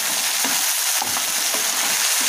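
A paste of ginger, green chili, cumin and black pepper frying in a pan for a paneer butter masala, a dense loud sizzle with faint soft stirring knocks, close up and without talk.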